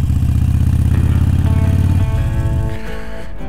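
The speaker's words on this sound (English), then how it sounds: "Do one last look at the bike before I start going at high speeds." A Harley-Davidson Iron 883 motorcycle engine runs loud and close in a steady low throbbing rumble, which eases off and changes pitch toward the end.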